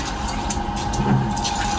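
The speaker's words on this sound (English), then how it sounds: "Okay, so I'm just going to pour that in" Dark bourbon mash is poured into a still at a distillery, a dense continuous gushing and sloshing of thick liquid, loud and close, running steadily throughout without speech.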